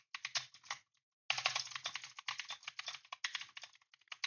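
Close, crisp typing on a computer keyboard in quick irregular bursts of key clicks. A brief pause falls early on, then the typing resumes steadily.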